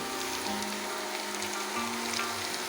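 Onion, green chili and garlic fry in a pan with a steady, close sizzle and faint crackle that runs throughout, with no voices over it.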